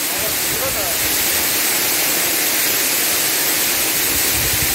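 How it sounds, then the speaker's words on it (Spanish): A waterfall at La Hierba, Las Chinamas near Pueblo Viejo, Ahuachapán, gushing steadily: a loud, continuous broadband roar of falling water close by, unbroken for the whole stretch with people talking faintly over it. "Así es el gran borbollón de agua"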